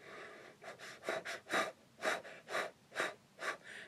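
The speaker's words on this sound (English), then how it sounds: "It's a yoga move called Breath of Fire, and it sounds really funny." Rapid yoga Breath of Fire breathing, forceful nasal exhalations pumping in a steady quick rhythm of about eight bursts, close and clear with no talking.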